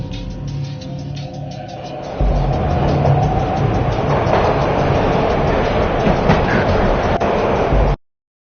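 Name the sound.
train ride in a video game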